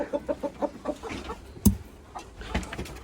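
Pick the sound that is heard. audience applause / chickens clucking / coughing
chickens clucking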